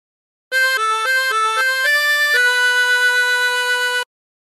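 A harmonica plays a short melodic phrase from a song, a run of quick stepping notes settling into one long held tone, loud and alone with no talk.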